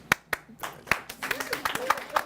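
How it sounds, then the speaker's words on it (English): A few people clap at first, sharp separate claps that build into scattered audience applause, with talking and laughter mixed in underneath. "Do we applaud here?"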